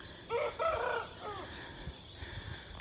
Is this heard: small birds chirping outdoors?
yes